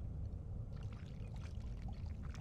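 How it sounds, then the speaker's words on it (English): Water pouring in a video game cooking scene, a short continuous splashing gush over a low rumbling backdrop, fairly close and steady. "Pour some water."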